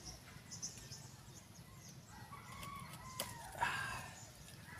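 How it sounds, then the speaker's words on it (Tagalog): Chickens in a backyard vegetable garden at harvest time: faint, distant clucks and a short crow come through a quiet outdoor background, with soft murmuring voices nearby. "Ang mga birds."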